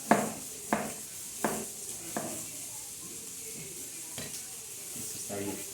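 Chopped onion (cebolla cabezona) frying in a little oil in a small pan sizzles steadily and close, punctuated by several sharp spatula taps and stirring scrapes against the pan.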